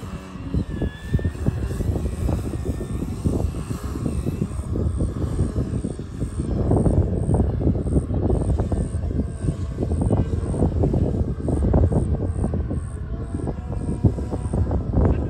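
A 60-inch Extreme Flight Laser v3 RC model airplane's engine buzzes continuously overhead on its first flight, a steady whining drone that rises slightly as it passes, with no voices.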